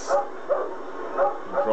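A cartoonish dog from the Wii Party video game gives several short yapping barks in a quick rhythm, close and clear over soft background music.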